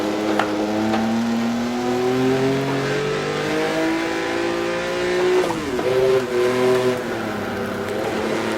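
A 1958 Formula One race car in the Automobilista racing game, its engine droning and revving steadily through corners with pitch rising and falling under heavy throttle, a brief dip and recovery mid-run, loud and continuous with faint tire noise.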